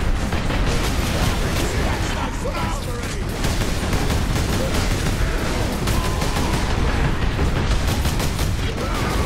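Dense, continuous gunfire and explosions from the Warhammer 40,000 Space Marine video game during a chaotic boss battle against Warboss Grimskull, loud and unbroken throughout with rapid shot bursts and booms piling together.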